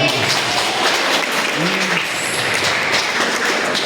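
A church congregation claps together in sustained, dense applause that stays steady and fairly loud throughout, with faint voices mixed into the crowd noise.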